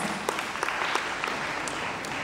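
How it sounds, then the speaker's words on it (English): An audience applauds at a jewellery design awards ceremony, with steady dense clapping throughout and no voices over it. "So give yourselves a round of applause."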